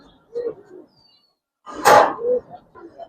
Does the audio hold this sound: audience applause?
no